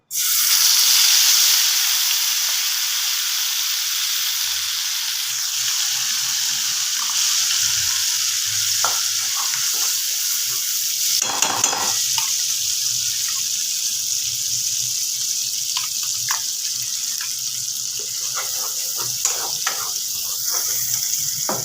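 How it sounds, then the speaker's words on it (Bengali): Spice paste is added to hot oil and ghee in a pan, giving a loud, continuous hiss of frying that runs steadily throughout, with scattered scrapes and taps and no voices. "তেল আর ঘিটা গরম হয়ে গেছে যে মশলাটা পেস্ট করেছিলাম দিয়ে দেবো"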